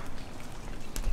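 Rain falling outside an abandoned hospital in fog, a steady soft hiss of drops with a faint patter and no voices.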